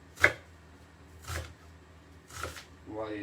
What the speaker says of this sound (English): Just going to chop this into very small pieces